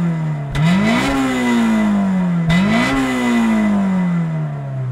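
A car engine breathing through two large exhaust pipes revs twice, each blip rising sharply and then sliding back down to idle, loud and close with a deep, rumbling exhaust note and no talking.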